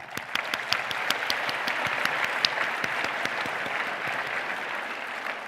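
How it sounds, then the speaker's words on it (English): An audience at a conference awards ceremony applauds a winner, with dense, steady clapping from a sizeable crowd that holds at an even level for several seconds. "Give them a round of applause."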